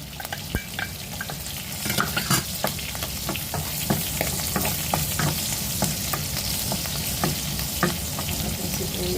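Garlic sizzles steadily in hot oil in a pan for a mung bean dish, a dense close frying hiss broken by frequent sharp scrapes and clacks of stirring, with no talk.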